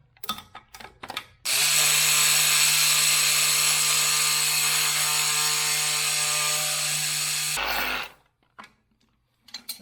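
A Sawzall reciprocating saw with a fine-toothed blade bites into an old cast iron toilet flange, a loud, steady, buzzing cut lasting about six seconds, bracketed by brief clanks and handling noises before and after.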